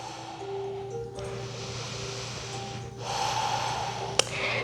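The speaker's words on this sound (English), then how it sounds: "Nice deep breaths." Slow, deep breaths during a yoga flow, a long airy exhale followed by a fuller inhale, near and fairly loud, with a soft tap near the end.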